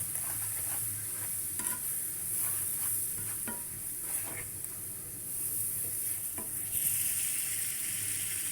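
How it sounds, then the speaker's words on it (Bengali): Chili powder and turmeric sizzle steadily in hot oil in a pan for a deshi chicken curry, with a spoon scraping and stirring at intervals throughout, close and continuous with no talking. "এখন এটাকে ভালো করে ভেজে নিব।"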